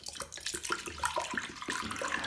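Water poured into Mapei Primer G to dilute it one to one, a close, splashy pouring with irregular gurgles and glugs.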